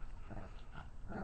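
A dog makes short whimpering, grumbling vocal sounds at close range over about a second, steady and fairly quiet, with no one talking.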